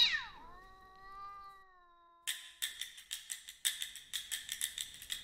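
A cat lets out a long drawn-out meow, falling then wavering, followed by a quick run of rapid scratchy bursts, close and fairly loud with nobody speaking.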